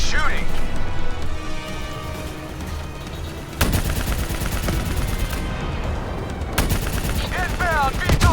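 Gunfire fills a first-person shooter video game, with sustained rapid automatic bursts and sharp loud cracks over a dense battle backdrop, while characters shout over the shooting.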